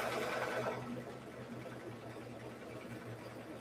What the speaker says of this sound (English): let's go ahead and stitch it down